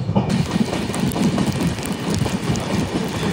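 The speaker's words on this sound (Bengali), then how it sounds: "দূর থেকে কোনো একটা ট্রেন ছুটে আসছে ওই ট্র্যাকে" Train on the adjacent track in afternoon rain, running past with a dense, close rolling rumble and quick rhythmic clatter of wheels over rail joints, loud and unbroken throughout.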